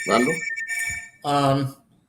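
A telephone rings in the background with a thin, steady electronic tone that runs under the conversation. Someone speaks over it the whole time.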